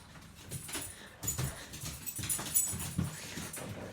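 Hyper puppy playing with a person indoors, quiet scuffling, soft whimpers and panting with scattered pattering bursts, close and faint.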